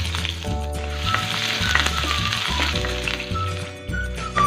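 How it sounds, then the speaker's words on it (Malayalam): Chopped ginger and garlic with mustard seeds frying in coconut oil produce a loud, continuous sizzle and crackle, close up, over a steady low hum, with brief stirring scrapes. "ഇതിലേക്ക് ഒരു ചെറിയ കഷ്ണം ഇഞ്ചി അരിഞ്ഞതും ഒരു 3 വെളുത്തുള്ളി ചെറുതായി അരിഞ്ഞത് ഇട്ട് കൊടുക്കാം"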